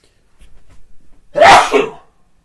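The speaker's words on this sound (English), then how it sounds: "Nothing like a good sneeze every once in a while." A single loud, close human sneeze bursts out after a quiet breath or two of buildup, then trails off.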